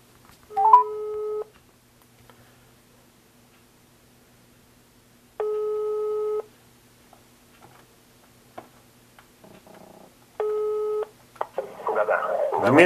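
Telephone line tones after dialing a number: three separate steady beeps, each about a second long and spaced roughly five seconds apart, heard clearly over a quiet line, with faint rustling near the end.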